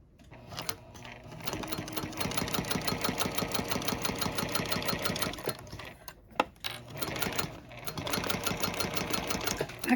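Sewing machine stitching paper cards into a journal, a steady rapid mechanical whir with brief pauses and restarts, close and fairly quiet.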